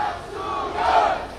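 A rally crowd at a Buyeo market-day election campaign chants candidate Park Soo-hyun's name, a short, swelling burst of many voices shouting together from a moderate distance.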